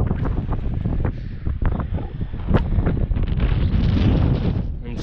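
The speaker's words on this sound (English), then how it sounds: "The wind's starting to pick up a bit." Strong wind buffets the microphone on an evening hike up Snowdon's Pyg Track in Snowdonia, North Wales, a loud, gusty rumble that rises and falls continuously, with no clear talk.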